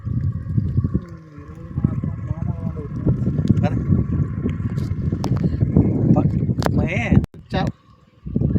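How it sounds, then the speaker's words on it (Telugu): A fishing boat passes on open water near a village, its steady low rumble running close and loud beneath wind buffeting the microphone, cutting out briefly near the end. "ఇప్పుడే ఒక పడవ వెళ్తుంది ఫ్రెండ్స్ వేటకి."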